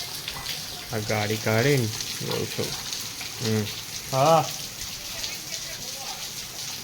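Steady rain pours down outdoors with a constant, close wash of hiss, while people talk briefly over it.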